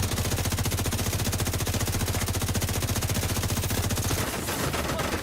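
Rapid electric bullets fire nonstop in a video game, a loud, dense automatic stream of evenly spaced shots that runs for about four seconds before breaking off.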